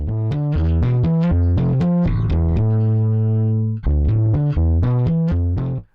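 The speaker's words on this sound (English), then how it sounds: "You can clearly hear the saturation or the distortion. Makes the sound a little bit muffled." Bass loop run through Saturn plugin saturation distortion, a loud, thick, slightly muffled riff of punchy repeated notes with a held note in the middle, continuous and with no talk.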